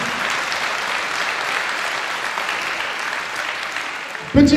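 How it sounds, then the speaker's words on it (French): Steady applause from an audience at a charity cheque presentation for a cancer league, even continuous clapping that runs without pause until a brief voice cuts in at the very end. "Applaudissements"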